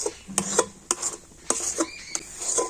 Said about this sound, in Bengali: এইভাবে হালকা জাল দিয়ে নাড়াচাড়া করে তো মিশ্রণটা অনেকটাই টাইট করে নিয়েছি